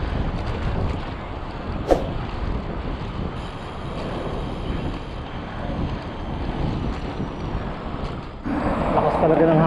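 Strong wind buffets the microphone in a dense, steady roar on an outdoor ride, getting louder near the end, with a voice speaking faintly beneath it.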